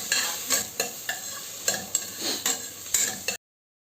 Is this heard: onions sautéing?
yes